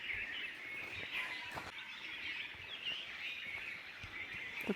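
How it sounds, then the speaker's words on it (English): Birds sing and chirp steadily along a hiking trail in Pia Valley, a dense overlapping chorus of calls that runs continuously at moderate distance, with no talking. "The birds are really active today."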